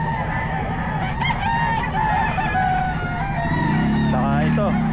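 Roosters and hens clucking and crowing at the Bocaue pet market among gamefowl for sale, several birds calling close by over continuous crowd noise, with someone talking throughout.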